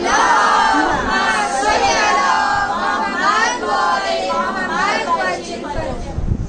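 A crowd at a Muharram majlis chants a Haidari slogan in loud, rhythmic unison, repeated voiced shouts rising and falling close by over several seconds.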